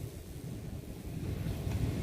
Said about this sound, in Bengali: ডান দিকে উত্তাল সমুদ্র, গর্জনের আওয়াজ শোনা যাচ্ছে